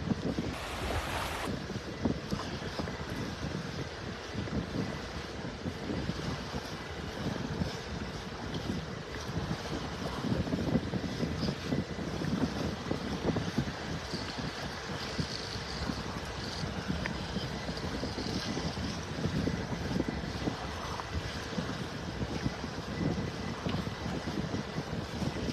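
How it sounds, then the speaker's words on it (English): Steady wind roars across the microphone on a North Naples, Florida beach under gathering clouds, with surf washing faintly beneath the constant gusty rush. "That wind's picking up."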